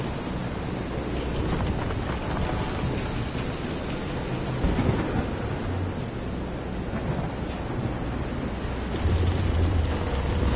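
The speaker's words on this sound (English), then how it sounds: "This is some storm." Heavy rain and rumbling thunder from a storm at sea in the video game Visions of Mana, a dense continuous wash of rain with deep rolls of thunder, loud and steady throughout.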